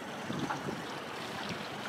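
Wind gusts across the open water of the Columbia River, a steady hiss with low buffeting on the microphone and some faint splashing and rushing underneath.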